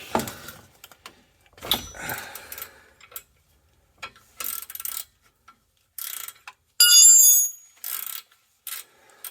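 A ratchet wrench works loose a stubborn bolt during a Subaru GF8 WRX engine swap: short bursts of clicking pawl strokes, separated by pauses, close and fairly loud, with one longer, faster run near the end.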